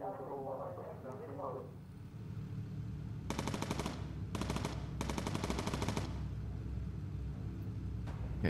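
Rapid machine gun fire from the Bomber Crew aircraft video game rattles in three loud, sustained bursts over a low droning engine rumble, following some brief speech at the start.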